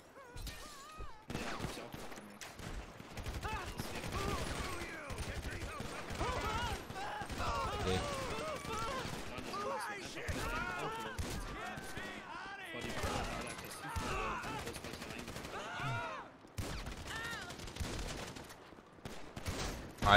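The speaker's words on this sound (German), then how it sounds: "Alle werden beschossen." Gunfire in GTA Online, dense bursts of automatic shots and scattered single cracks running steadily throughout, loud and close, mixed with a voice talking over the action.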